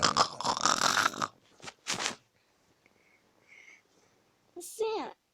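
A child imitates an ugly, exaggerated snore at night, a loud rasping burst at the start followed by two shorter snorts, a quiet stretch with faint sounds, then a final brief snort near the end.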